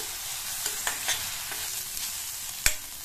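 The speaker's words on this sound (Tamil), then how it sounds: "இப்ப வெங்காயத்தை இந்த மாதிரி லைட்டா கலர் மாறுற அளவுக்கு வதக்கிட்டு" Onions sautéing in a pan for brinjal kara kuzhambu, a steady close sizzle broken by a few sharp spoon scrapes and clinks against the pan, with no voices.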